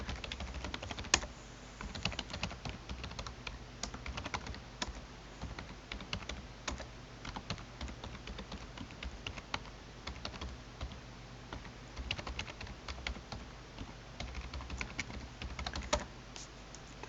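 Rapid typing on a computer keyboard while entering a command-line instruction, with irregular close clicks and clatter running steadily throughout, with no talking.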